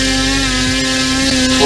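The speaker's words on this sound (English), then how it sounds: "3, 2, 1, full throttle. And now we're up." The motor of an RC 3D aerobatic airplane runs at full throttle during a hover, giving a loud, steady high-pitched buzzing drone that holds constant and rises slightly at the end.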